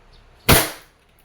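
A WE Glock 17 Force Series airsoft pistol with a silver slide fires a single sharp, loud crack, close by, into a chronograph tester, with a short decaying tail in otherwise quiet surroundings.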